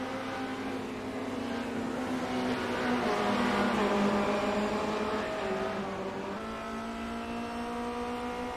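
Formula Renault 2.0 race cars in a racing video game set at the Nürburgring, their engines droning steadily at high revs with pitch shifting as they change gears, several cars blending together with no talk.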